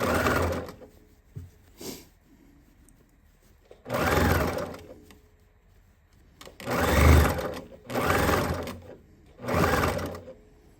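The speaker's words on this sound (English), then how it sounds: "make sure that my material properly eases in as I do it, as I stitch around that corner" A sewing machine stitches around a pillowcase corner in short whirring bursts, four or five runs of a few seconds each with quiet pauses and small clicks between them.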